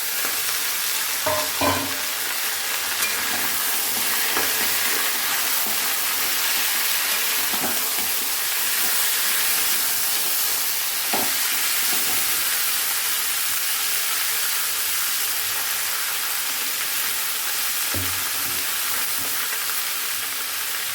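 Pumpkin and onion frying in a pan, a steady loud hissing sizzle throughout with occasional scraping knocks of stirring.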